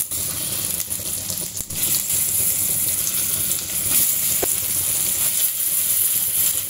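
Brinjals dropped into hot tempering oil for stuffed baingan masala, a steady hissing sizzle with a brief dip and clatter as the pieces go in, then continuous frying hiss.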